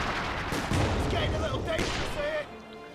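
Artillery and gunfire in the World War II strategy game Company of Heroes 2: dense booms and rattling shots blend into a loud, continuous battle din, with brief whistling tones, before it drops away near the end.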